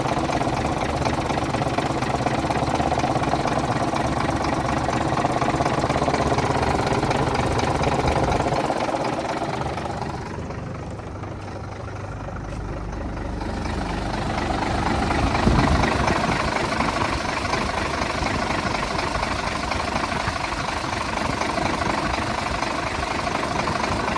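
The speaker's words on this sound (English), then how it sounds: "Just a nice smooth running engine." A 1991 International 4900 dump truck engine idles smoothly and steadily, heard up close for a long stretch with a brief dip in level midway and no speech.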